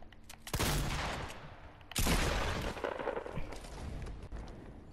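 Loud bursts of gunfire from the Fortnite battle royale video game, two heavy shotgun-like blasts, one at about half a second and another near two seconds, each trailing into noisy rumbling decay, with no talk over them.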